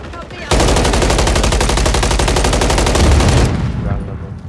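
Sustained automatic gunfire in the shooter Warzone 3, a loud, rapid, unbroken burst lasting about three seconds before cutting off, with a faint tail of echo afterward.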